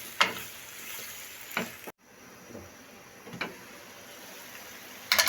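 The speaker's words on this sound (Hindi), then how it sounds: "बारीक कटा हुआ एक बड़े साइज का प्याज है, इसको हम फ्राई करेंगे लाइट ब्राउन होने तक" Finely chopped large onion fries in a pan, a soft continuous sizzle broken by a few sharp stirring clicks, with a brief drop to near silence partway through.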